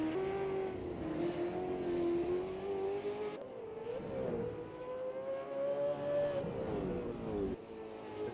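A Milwaukee Racing touring car at the Bathurst 1000 roars loudly and close, its engine note climbing steadily through the gears with short drops at each shift, and no voices over it.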